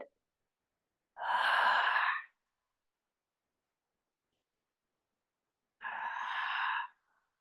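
Two slow, soft breaths during a gentle yoga neck stretch, each lasting about a second, separated by long stretches of silence; close, quiet and alone with no talk.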